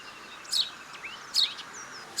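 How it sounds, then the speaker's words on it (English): House sparrows in an urban setting around a dust bath give three short, bright chirps spaced about a second apart, clear and fairly close over a quiet background. "feathery friends are house sparrows, common visitors to our urban landscapes"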